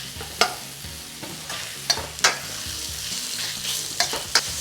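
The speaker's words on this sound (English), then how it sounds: "just as it turns golden, you put in the pork mince" Pork mince hitting hot oil with fried ginger and garlic for mapo tofu, a loud close sizzle broken by several sharp stirring scrapes.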